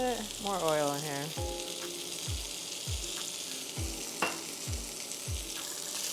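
Lamb chops sizzle steadily in hot oil in a pan, a continuous close crackle with a series of soft low thumps from handling, and a brief voiced sound near the start.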